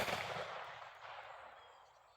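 A single .357 Magnum revolver shot loaded with a CCI pest control shot shell, caught as a fading blast whose echo trails away over about two seconds, faint and alone.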